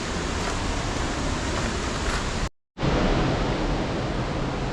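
Glen Ellis Falls in New Hampshire, a waterfall roaring as a steady, dense rush of water close by, with a brief break midway.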